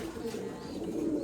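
A stray racing pigeon with a leg ring coos softly in a low, steady murmur that carries through the whole moment with no pause.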